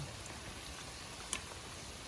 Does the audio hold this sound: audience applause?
no